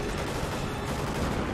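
Dense, continuous gunfire in the Call of Duty Ghosts campaign, a loud unbroken rattle of automatic shots with explosive rumble filling the whole moment, no voices.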